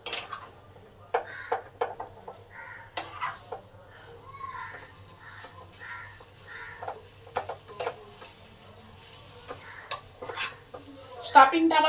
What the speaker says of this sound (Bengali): সমস্ত মশলা এই আলুর সঙ্গে মিশিয়ে দিই ভালো করে।